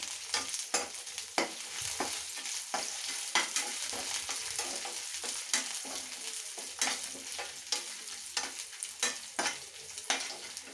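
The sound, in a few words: frying dried red chillies with curry leaves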